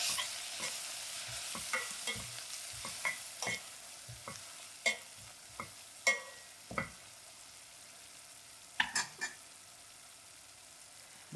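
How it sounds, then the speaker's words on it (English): Masala with curry leaf frying in a pot over lowered heat, a quiet background sizzle broken by a string of sharp spoon clicks and scrapes. "And then I'll add in my masala that already has the curry leaf, and let it to fry out by putting my flames"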